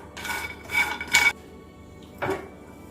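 Pistachios dry-frying in a pan for a toddler protein powder, heard as a few short scraping, rattling bursts of nuts shifted across the metal, with quiet gaps between them and no voices.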